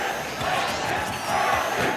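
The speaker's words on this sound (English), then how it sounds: "The crowd has erupted." A live Smash Bros tournament crowd erupts in loud cheering and shouting, a dense roar that swells toward the end over the game's sounds.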